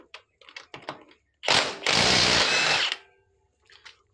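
A Bosch GDS 18V-400 cordless impact wrench loosens a tight nut. The wrench gives a short burst, then a sustained loud, close hammering rattle of about a second and a half, with light clicks and handling noise before and after.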